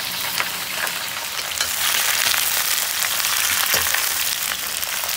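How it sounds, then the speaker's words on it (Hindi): Cauliflower fries in mustard oil over a cooking fire, a loud, dense, steady sizzle and crackle that swells slightly midway and continues without talk. "पहले हम गोभी को थोड़ा फ्राई करेंगे"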